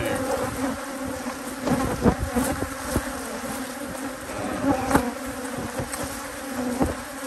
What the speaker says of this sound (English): See how angry the bees are?